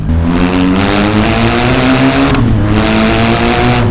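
A BMW GS Adventure 1250 boxer engine with an Akrapovic exhaust runs loud and close, its throaty drone rising and falling in pitch through a couple of revs, with no talking.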